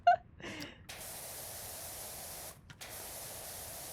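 A pressure washer in PowerWash Simulator 2 sprays in a steady, loud broadband hiss, with a brief gap near the middle before the spray resumes. A short sharp sound and a breathy burst come at the very start.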